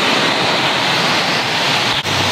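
Typhoon wind and heavy rain roar in a dense, unbroken wash while water floods into a damaged home, loud and close throughout, with one brief dip near the end.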